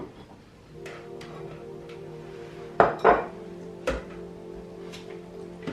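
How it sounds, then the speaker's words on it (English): Kitchen knife chopping the ends off yellow squash on a cutting board, a few sharp separate knocks and clinks against a quiet room background with a faint low hum. "I'm just going to chop the ends off"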